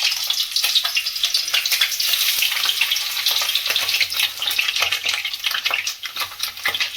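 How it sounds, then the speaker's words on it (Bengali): Potatoes frying in hot mustard oil on a gas stove, a dense, steady sizzle with crackling spatter and occasional stirring scrapes, close and loud with no talk. "এতে আমি আলুটা ভেজে নেব"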